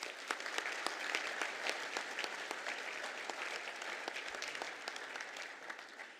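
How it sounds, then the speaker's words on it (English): A round of applause at a university graduation ceremony for the Soundpost Ensemble musicians, quiet and somewhat distant, with individual sharp claps standing out from a steady wash that gradually thins toward the end. "I think we could give them a round of applause"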